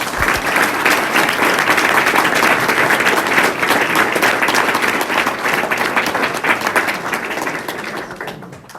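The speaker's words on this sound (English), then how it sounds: "Let's give a round of applause for Ken." Loud, close applause from an audience at a criminal reform event, many hands clapping in a dense, sustained burst that gradually thins out toward the end.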